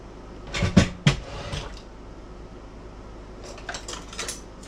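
Metal utensils clatter and clink in a brief burst near the start while someone rummages through a kitchen drawer for measuring spoons, then it goes quiet apart from faint later rustling.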